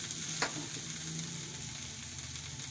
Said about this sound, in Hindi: हमें कुछ देर हो चुकी है चिकन को फ्राई करते हुए।